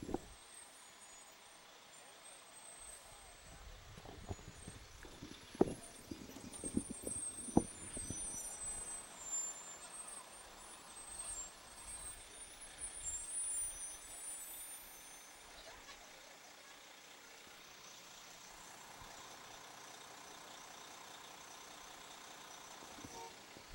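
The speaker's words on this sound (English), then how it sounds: "Looks like the trucks have come to a standstill here." Emergency response trucks, including a 1990 Ford pickup and a 1998 Ford Econoline, idle in a halted town day parade outdoors, with a steady low engine rumble, occasional air-brake hisses and scattered crowd sounds, fairly faint and distant.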